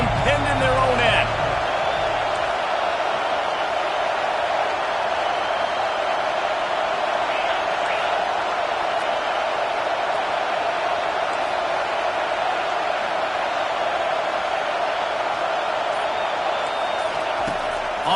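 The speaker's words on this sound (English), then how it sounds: "The roar of the crowd trying to fuel this defense to keep them pinned in their own end." College football video game stadium crowd roaring during a Mizzou versus Ole Miss game, a constant even wash of noise from start to finish with commentary voices heard over it.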